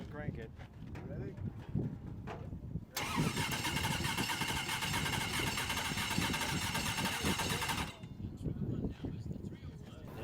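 A Camaro engine cranks briefly and then fires, settling into a loud, steady running roar for several seconds before dropping away, with voices talking throughout on the salt flats.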